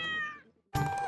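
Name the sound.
cat meowing, coming from the TV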